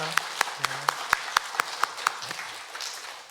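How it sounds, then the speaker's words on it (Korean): Slow, evenly spaced claps from a church congregation welcoming a newcomer at a Sunday service, about ten distinct claps in steady rhythm, fading into murmuring voices. "박수로 환영하겠습니다."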